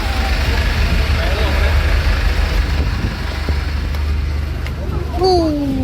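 On a passenger ferry crossing from an island to Ernakulam, Kerala, the engine room gives off a loud, constant low rumble and drone, with a brief tonal whine near the end.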